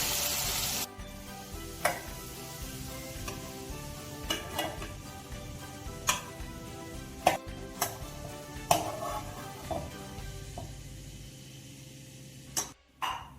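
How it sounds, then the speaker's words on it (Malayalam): Chicken pieces fry in oil in a pan for homemade Domino's-style chicken pizza, a steady close sizzle broken by occasional sharp clinks and scrapes of stirring, with no one talking. "ചിക്കൻ നല്ലപോലെ ഫ്രൈ ആയിട്ട് വന്നിട്ടുണ്ട്"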